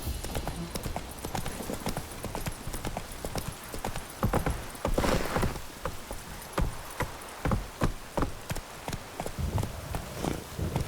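Roach, Geralt's horse in The Witcher 3, gallops with rapid, loud clip-clop hoofbeats in a steady running rhythm, close and continuous under faint ambient game sound.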